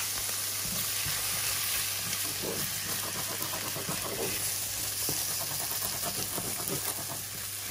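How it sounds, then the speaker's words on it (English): Egg cooking in a hot wok for chicken and prawn yaki soba, a loud steady sizzle and hiss with clattering stirring strokes throughout, close up and without talk. "We're just going to cook that egg out."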